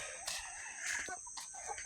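Two hens cluck and a rooster lets out a short crowing call on a small farm, a few brief bursts close by.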